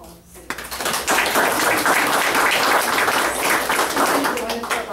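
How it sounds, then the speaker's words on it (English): Applause from the audience at a county commissioners court meeting, rising after a short quiet start into steady, dense clapping that carries on to the end, with some voices mixed in. "we give her a round of applause"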